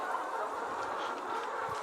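Dense flock of laying hens inside a poultry house of about 3,000 birds, a steady continuous clucking and squawking din filling the space at moderate level, with no talk.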